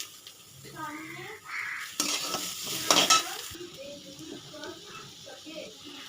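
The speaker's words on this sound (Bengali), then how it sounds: "দেখো সুন্দর ভাজা হচ্ছে" Khichuri frying in a pan as it is stirred, with a bright sizzle under someone speaking and a louder burst of scraping and sizzling midway.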